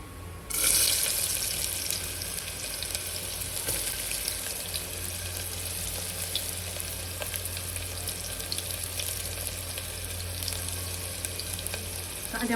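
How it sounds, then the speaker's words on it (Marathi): Chopped onion drops into hot oil already fried with cumin seeds, giving a loud, steady crackling sizzle that rises suddenly at the start and holds evenly throughout, with no voices. "जिरं झालं आता टाकते कांदा."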